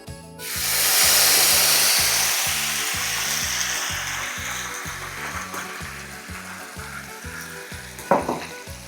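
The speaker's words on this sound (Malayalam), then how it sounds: "ഇതാ നമ്മുടെ മങ്ക് കുറച്ച് ഒഴിച്ചു കൊടുക്കാം" Old Monk rum poured into a hot pan while making a sauce for plum cake, an abrupt loud sizzle that flares up and slowly settles into a steady frying hiss, with a clink of a utensil near the end.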